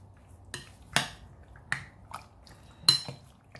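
A spoon clinks and scrapes against a bowl while orange juice, pineapple and dry spices are mixed for chicken fajitas, a handful of sharp separate knocks spaced unevenly over a quiet background.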